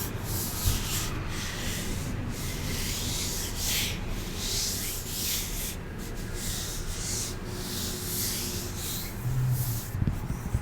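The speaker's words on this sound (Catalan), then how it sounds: "Això que estic tocant és aloe vera, és la fulla d'una planta" Fingers rubbing and squeezing a fleshy aloe vera leaf up close, giving a steady, soft scraping and rubbing texture with faint sticky crackles throughout, with no voices.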